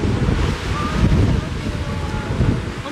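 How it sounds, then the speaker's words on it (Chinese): Strong wind gusts buffet the microphone on the French Riviera coast, a loud, continuous roar with a low rumble of surf beneath it. "好大风哦！"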